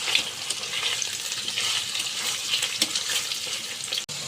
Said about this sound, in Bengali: আর এইদিকে কড়াইতে আমি মাংসটা বসিয়ে দেবো পেঁয়াজ ভাজা হয়ে গেছে